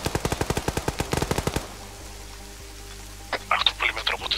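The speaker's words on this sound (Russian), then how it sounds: "А кто пулемет работает?" Rapid burst of machine gun fire in the military shooter ArmA 3, about a dozen loud evenly spaced shots in quick rhythm, then a quieter stretch before a few scattered distant thuds and crackles.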